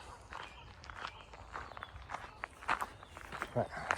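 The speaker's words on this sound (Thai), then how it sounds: "พาเดินดูเดินชมไปก่อน" Footsteps along a field path in the English countryside, a steady walking rhythm of soft, close crunches and scuffs, with someone talking over them.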